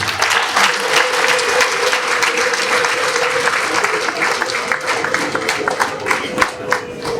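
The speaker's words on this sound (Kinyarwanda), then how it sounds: "Twongere duhuze ibiganza, ababyeyi impundu hafi, tumushimire." A church congregation applauds a priest at his first Mass, producing dense, loud, continuous clapping that fills the whole stretch, with crowd voices mixed into the ovation.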